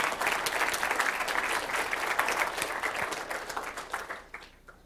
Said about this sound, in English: You can clap if you want. You can totally clap.